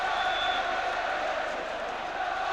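A football stadium crowd roars and applauds a sharp turn-and-shot goal by Ronnie Rosenthal in a 1989/90 match, a steady, distant crowd roar with a commentator talking over it.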